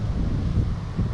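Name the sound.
wind blowing at the fishing spot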